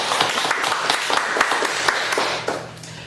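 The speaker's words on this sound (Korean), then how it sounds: "우리 하나님께 영광의 박수 올려드리겠습니다" A church congregation claps in applause, a brisk run of overlapping hand claps that holds steady and then tapers off near the end.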